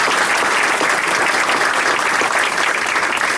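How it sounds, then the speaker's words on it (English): Dense, loud ceremony applause for commissioners at a bridge-tunnel 50th anniversary event, a continuous wash of many hands clapping at even strength throughout. "Join me in applauding."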